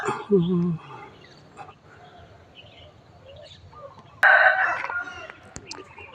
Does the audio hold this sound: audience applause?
no